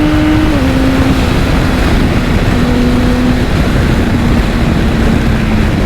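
A BMW K1600B six-cylinder motorcycle engine runs steadily after a downshift, a loud continuous drone with a tone that steps down in pitch early and then holds, heard alone with no talk.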